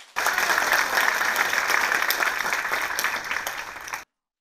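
A seminar audience breaks into sustained applause, a dense even wash of many hands clapping from start to finish with no talk over it.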